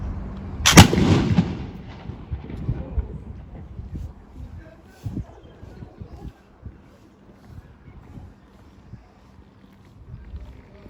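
A single loud musket shot cracks out near the start at a museum demonstration, then a long rumbling echo and wind noise trail off with faint background murmurs.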